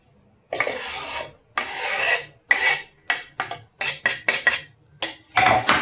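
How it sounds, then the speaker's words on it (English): A knife chopping food on a board for a tuna mix, in bursts of rapid rasping strokes separated by short pauses, close and fairly loud with no talking. "Chop this up."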